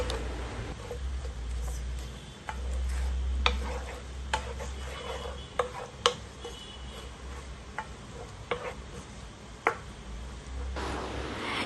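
A spoon stirring jaggery into water in a pan, with scattered sharp scraping clicks against the pan over a steady low background hiss, close and alone.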